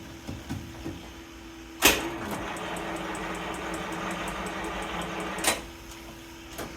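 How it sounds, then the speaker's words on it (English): Car fuel pump whirring steadily while priming before an attempted engine start, a continuous electric hum framed by sharp clicks at the start and end, close by with no talking. "That's the fuel pump."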